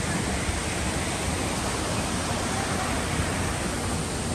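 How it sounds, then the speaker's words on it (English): Water fountains at the Crown Center shops in Kansas City splash in a dense, constant hiss of falling water, steady and fairly loud throughout with no talking. "Lots of fountains."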